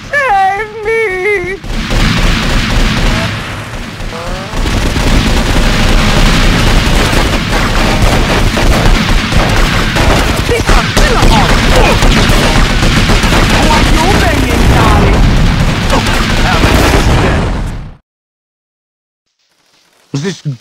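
Sustained gunfire in GTA Vice City Stories, loud overlapping bursts of automatic weapons and booming shots that fill nearly twenty seconds before cutting abruptly to silence.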